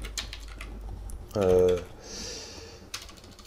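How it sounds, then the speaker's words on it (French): Rapid typing on a computer keyboard while coding in Unity, close and clicky bursts of keystrokes with a brief tonal sound in the middle. "donc on va taper"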